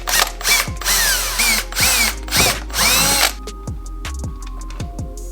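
A power drill bores holes for tail light wiring on a widebody 240SX, running in four close, loud bursts with short pauses, then clicking and ratcheting handling noises at the end.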